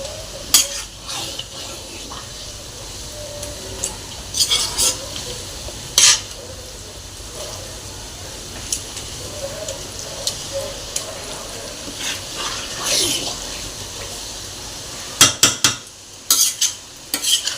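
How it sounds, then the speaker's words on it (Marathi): Vada pav masala dry-roasted in a pan with constant stirring, a soft sizzle under repeated close scrapes and clinks of a spoon against metal, the clatter growing busier toward the end, no speech. "मसाल्याला ही गोल्डन कलर येईपर्यंत मसाला एकसारखा भाजून घ्यायचा आहे, एकसारखा हलवत राहायचं आहे."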